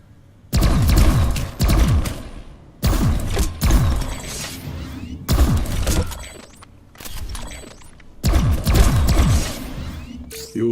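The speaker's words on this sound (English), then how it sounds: "Try shooting some targets while aiming down sights" Bursts of weapon fire at practice targets in PlanetSide 2, fired while aiming down sights, come in four loud volleys separated by brief pauses, each with rapid metallic clatter and mechanical clicks.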